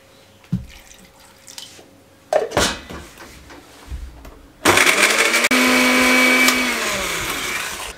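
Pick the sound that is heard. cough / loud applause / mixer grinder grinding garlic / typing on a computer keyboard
mixer grinder grinding garlic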